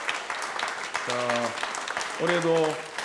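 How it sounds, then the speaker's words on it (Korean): A church congregation at a women's mission society dedication service applauds, a moderate, steady patter of many hands, while a voice sings or calls out sustained tones twice over the clapping. "박수 부탁합니다."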